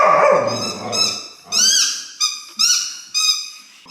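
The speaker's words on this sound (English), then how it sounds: "I have a puppy. Playing with your squeaky toy." A puppy plays with a squeaky toy, squeezing out five or six sharp, rising squeaks in quick, uneven bursts, close and loud, after a stretch of lower noisy rustling at the start.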